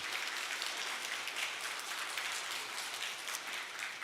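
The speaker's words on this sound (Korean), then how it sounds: "환영의 박수 드리겠습니다" A church congregation at a Sunday worship service claps in welcome for a member's visiting mother: a dense, steady wash of many hands applauding together, filling the room evenly for the whole stretch without any talking.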